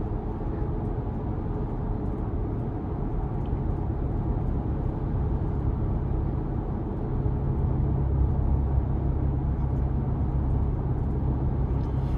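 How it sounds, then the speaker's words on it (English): Steady low road and tyre roar inside the cabin of a 2026 Ford Ranger Raptor on lifted off-road tyres at light throttle, a continuous even rumble with no talk. "under light throttle, pretty quiet in the cabin. Road noise is a bit prevalent just with these tires"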